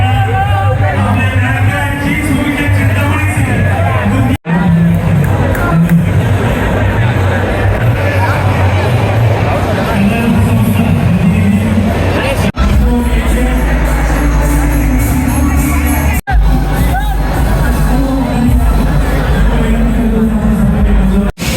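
Loud crowd gathered in the street around a Ganpati idol trolley during a Ganesh procession, a dense continuous hubbub of voices and murmuring with a few sharp bangs, close by and unbroken.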